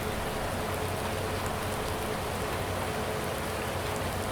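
Steady, dense rain falls in Farming Simulator as a continuous even hiss of drops on surfaces, filling the whole stretch with no pauses and no voices.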